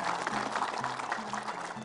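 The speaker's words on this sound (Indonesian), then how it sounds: "tepuk tangan sekali lagi dari Klender" A studio audience at an Indonesian religious television program claps briefly, a fairly dense patter of hands with background music tones running underneath.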